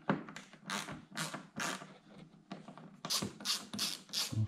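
Ratchet loosening the three mounting screws on a C7 Corvette front splitter, with rapid clicking bursts of the pawl repeating in quick close-up strokes, pausing briefly between turns.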